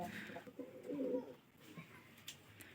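Soft cooing of a pair of Rajshahi Giribaz pigeons, a low murmuring call near the start, faint and somewhat distant in a quiet space.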